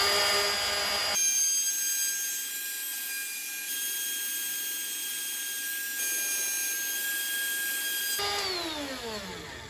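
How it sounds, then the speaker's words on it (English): A router cuts wood for a mortise lock pocket guided by a lock mortising jig, giving a loud, steady high-pitched whine that spins up at the start and winds down at the end. "So this is more accurate and easier on your router."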